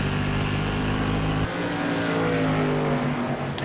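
SK Modified race car at Thompson Speedway in iRacing, its engine roaring loud and steady at high revs, then shifting to a lower droning pitch partway through as the car works through a corner.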